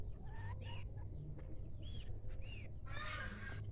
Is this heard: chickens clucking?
yes